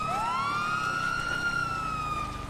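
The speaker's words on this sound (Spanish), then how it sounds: "Pueden apagar la sirena, por favor." A vehicle siren in GTA V sweeps upward and then holds a long steady wail. It is loud and sustained over low traffic rumble, fading slightly at the end.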